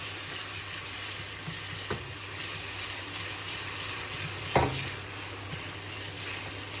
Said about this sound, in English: Going to give that a quick little stir